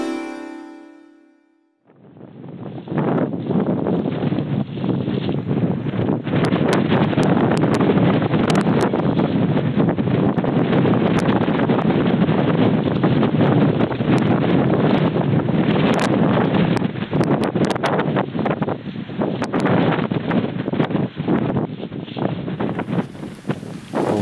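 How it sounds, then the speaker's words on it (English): Strong wind roars and buffets the microphone at a campsite on an abandoned air force base, a loud, continuous howl with gusty surges that runs for about twenty seconds after a quiet start. "the wind's just been howling all night"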